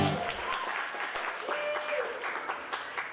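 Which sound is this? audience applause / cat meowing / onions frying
audience applause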